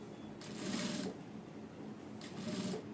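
Sewing machine stitching piping onto a padded princess-cut blouse, two short bursts of running stitches separated by a quiet pause, close and fairly soft.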